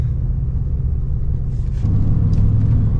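Steady low engine rumble from a pickup truck driving on the road, the tone deepening slightly as it picks up speed partway through; no voices.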